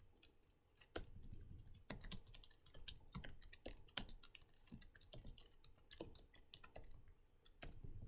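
Fast, irregular clicking of keys on a computer keyboard, faint and close, with uneven bursts of typing and no talk.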